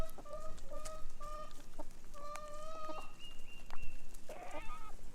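Several chickens cluck and chirp in short bursts close by while eating pumpkin guts, a quiet, busy murmur of hens.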